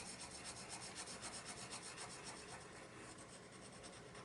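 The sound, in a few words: colored pencil burnishing on paper in circular motion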